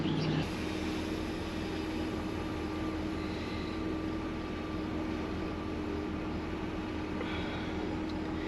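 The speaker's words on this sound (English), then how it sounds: "So we'll run down with a drone and fly around the pumping operation there." A drone flies over a concrete pumping operation at a construction site, a steady droning hum heard continuously over a broad wash of site noise, moderately loud throughout.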